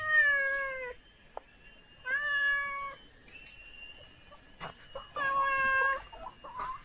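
A cat meows three times, loud and close, with long drawn-out cries separated by short quiet gaps.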